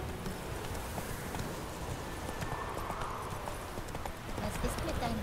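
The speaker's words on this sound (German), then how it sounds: "Plötze, mein liebes Pferd." Hooves of the horse Roach clopping at a trot in The Witcher 3, a steady rhythmic clip-clop under continuous game ambience and music, with someone talking over it.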